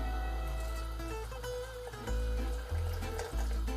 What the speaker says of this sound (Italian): a questa marmellata, nella prima fase di cottura, io aggiungerò un po' di acqua